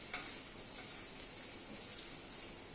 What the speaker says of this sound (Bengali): আদা, কাঁচা লঙ্কা ও পেঁয়াজটাকে ভালো করে একটুখানি ভেজে নিলাম।